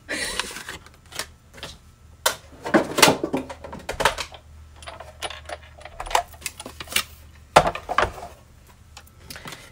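A Big Shot die-cutting machine presses paper leaf shapes, producing sharp clicks, clacks and ratcheting knocks in irregular bursts, close up and fairly loud against a faint steady hum.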